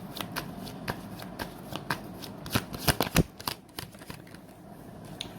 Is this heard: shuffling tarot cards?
yes